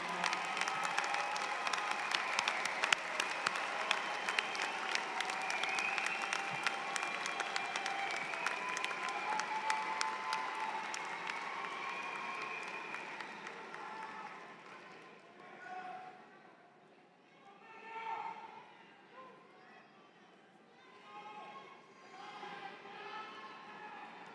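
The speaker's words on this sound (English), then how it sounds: "give them a big round of applause" Sustained applause from a large crowd at a graduate commencement ceremony, steady at first and then thinning out into scattered clapping and cheers.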